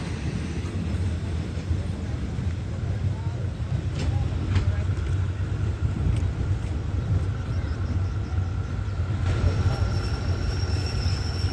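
SRT GEK diesel locomotives stand at a Thai railway station in the morning, putting out a steady, heavy low engine rumble with faint higher whines above it.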